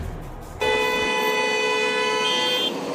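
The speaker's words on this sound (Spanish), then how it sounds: "El sonar de las bocinas predominó en cada intersección de Guayaquil." One long, loud car horn blast holds steady for about two seconds amid traffic at a congested Guayaquil intersection where the traffic lights are out during power cuts.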